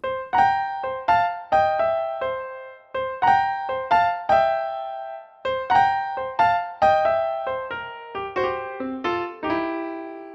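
A solo piano plays a bouncy blues riff, repeating a rhythmic pattern of chords and single notes, clear and close.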